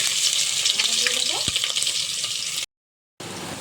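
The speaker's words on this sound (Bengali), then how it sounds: "শুকনো লঙ্কা সব বেশ ভাজা হয়ে গেছে তেলে" Dried red chillies fry in hot oil in a steady, close sizzle, with a brief clink of a utensil partway through before the sound cuts out and resumes.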